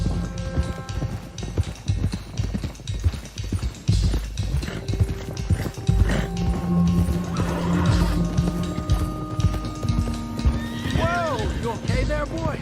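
Horses on the trail in Red Dead Redemption II, hooves clip-clopping in a steady gallop with neighs and whinnies, a rumbling cart-like skid, swelling music and someone talking over it.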